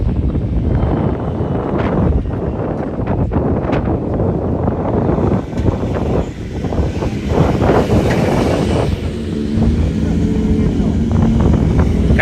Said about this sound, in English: Wow, the wind is crazy today.